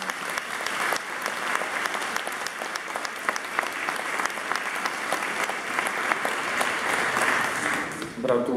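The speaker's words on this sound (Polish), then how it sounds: "też się należą oklaski." Sustained applause from a church congregation in Nowa Sól, steady clapping filling the space for the whole stretch with a dense, even texture and no pauses.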